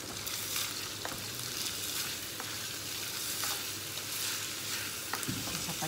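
Pancit guisado noodles with chicken and chicken liver sizzle and hiss steadily in a hot pan, with faint stirring clinks now and then and no talking.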